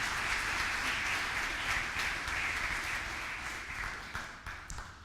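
A church congregation applauds during a morning service, a steady wash of clapping heard at a distance in a reverberant room that gradually tapers off.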